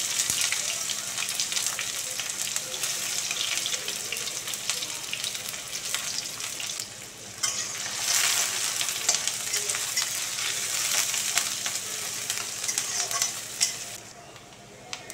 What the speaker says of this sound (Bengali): তেল গরম হয়ে গেলে পেঁয়াজ দিয়ে দিলাম।